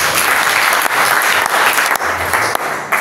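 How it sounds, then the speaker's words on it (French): A church congregation claps loudly and continuously in a dense, steady burst of applause with no pauses. The applause fills the room for a few seconds. "Acclamons pour la parole de Dieu."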